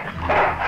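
A dog in the Full Throttle Remastered video game gives one short, loud bark or yelp, close and alone with no speech.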